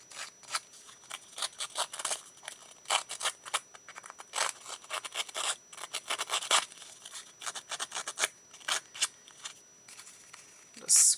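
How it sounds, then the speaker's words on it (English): Paper tag edges being scraped to distress them: quick, dry rasping strokes in an irregular rhythm, close-up and fairly quiet, with no talking. "scrape up these edges here"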